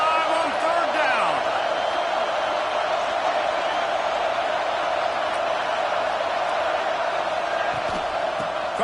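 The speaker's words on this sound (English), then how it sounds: "The Buckeye crowd alive on third down." Steady roar of an Ohio State Buckeyes football crowd in a video game, cheering on third down against Indiana, a dense continuous wash of noise that holds loud and unbroken throughout.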